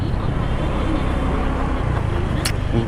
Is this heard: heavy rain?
no